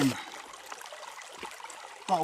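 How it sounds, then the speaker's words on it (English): Water trickling and dribbling during filtering at a hiking-trail camp in the morning, a thin steady stream heard close up for a couple of seconds, with louder handling noises at the start and end. "I'm filtering water this morning"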